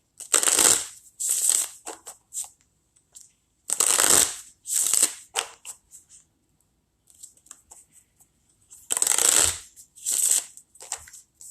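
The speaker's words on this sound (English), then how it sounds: "Karen, let me shuffle the cards and see what they say." Several bursts of cards being shuffled, quick riffling and flapping sounds in clusters separated by short pauses, close and fairly loud.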